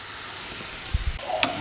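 Vegetables with celery sizzle steadily in a hot pan, with a few soft clunks of stirring near the end.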